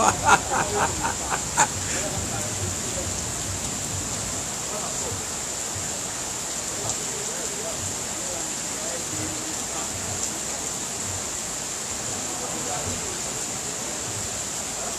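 Heavy rain pours steadily during a flood in Abidjan as a constant hiss, with a few faint clicks and a voice speaking briefly under the downpour.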